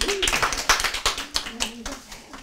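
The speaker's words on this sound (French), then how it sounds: "vous pouvez applaudir." A small audience at a religious talk claps briefly, a scattered patter of distinct hand claps in uneven rhythm, with a voice faintly under it.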